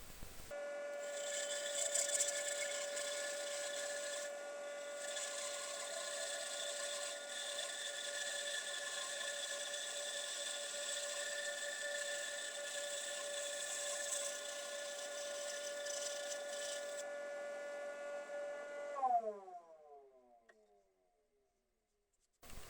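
A power saw blade cuts through a wooden board meant for a single-board bowl, a steady whining buzz that runs for about nineteen seconds, then winds down and fades out.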